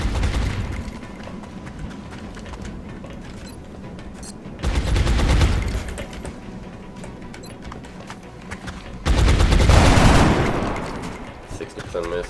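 Rapid bursts of gunfire from the XCOM Long War video game, with two loud volleys breaking over a continuous lower rumble of combat.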